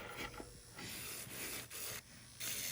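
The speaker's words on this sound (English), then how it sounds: "next step is to use this sanding band and I'm just gonna remove the shine and any of this residue off the nails" A sanding band buffs polygel nails, making soft, faint rasping strokes in short repeated bursts with brief pauses between them.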